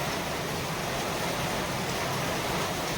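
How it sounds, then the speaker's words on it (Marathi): Heavy monsoon rain pours down outside in a dense, even roar with no pause. The hiss is loud, broadband and steady, and nobody speaks over it. "खूप जोरात पाऊस पडतोय, खूप जोरात."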